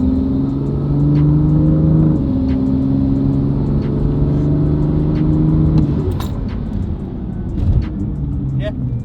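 A BMW engine hums and pulls steadily as the car picks up speed on the road, with the pitch shifting upward, heard from inside the car under light background noise.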